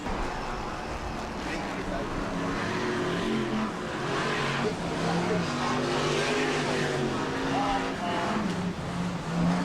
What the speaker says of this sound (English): The green flag goes down, and away we go. Brisca Formula 1 stock car.